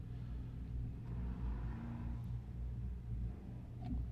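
IMCA Hobby Stock race cars running hot laps at a weekly dirt track event, a steady low engine rumble with wavering revs carrying on throughout, fairly distant and continuous with no talk.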